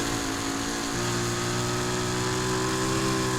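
The Lamborghini Aventador SVJ engine in Need for Speed Heat holds a loud, steady, droning note whose pitch rises slightly after a shift about a second in, with no talking.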